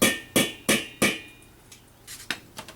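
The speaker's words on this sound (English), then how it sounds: "we're just going to tap it in nice and gentle with our rubber mallet" A rubber mallet gently taps a part into a Corvair cylinder head, four sharp evenly spaced knocks followed by a few softer, scattered taps.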